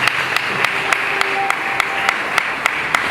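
An audience at a Word of Faith Ministries International graduation ceremony in Haiti applauds steadily, a dense, even wash of clapping that continues unbroken and fairly loud throughout, with no one speaking.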